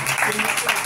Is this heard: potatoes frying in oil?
no